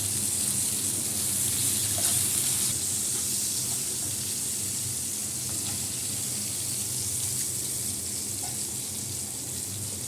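Diced potatoes and tomatoes fry in hot oil with nigella seeds, giving a steady, close, hissing sizzle that runs unbroken throughout without talk.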